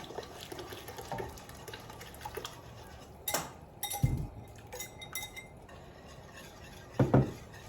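A whisk and spoon clinking against a pot of boiling water on the stove, with scattered metallic taps and a few louder knocks over a low bubbling hiss, close and without speech.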